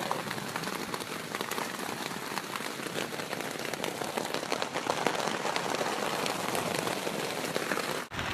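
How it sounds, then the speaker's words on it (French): Rain falls steadily on a surface at a campsite, a dense, even hiss of close drops that lasts throughout with no voices. "On voit qu'il pleut."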